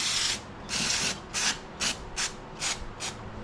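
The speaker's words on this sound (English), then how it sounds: "So we got our carb cleaner. Just gonna clean it off, clean that backing plate off a little," Carb cleaner sprayed onto the backing plate of a Briggs & Stratton 140cc carburetor on a Craftsman M110 mower, heard as seven close, loud hissing bursts in a steady rhythm with brief pauses between.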